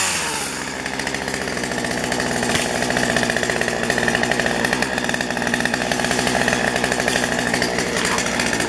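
A chainsaw felling a tree runs loud and steady throughout, its engine droning at a high pitch with no voices heard.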